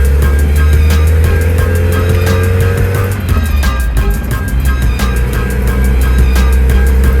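A 1980 Toyota pickup with a rebuilt 22R engine climbs a hill, its loud, close engine droning steadily and dropping in pitch partway through amid a constant rattle of cabin noise.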